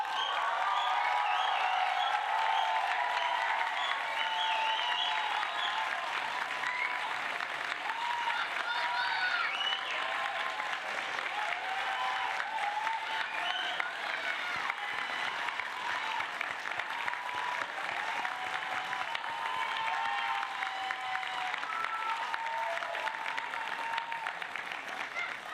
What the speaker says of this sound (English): let's hear a very strong round of applause